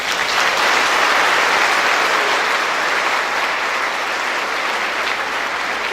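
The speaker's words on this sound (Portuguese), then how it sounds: "Você pode aplaudir o Senhor?" Church congregation at a worship service applauding, a dense, loud, continuous wash of clapping that holds steady throughout.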